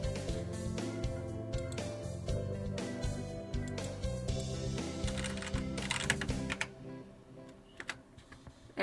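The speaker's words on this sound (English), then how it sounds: "this keyboard is so fucking loud." Loud, rapid clacking of a computer keyboard with a steady flurry of keystrokes throughout, close to the microphone, a few sharper isolated clicks near the end.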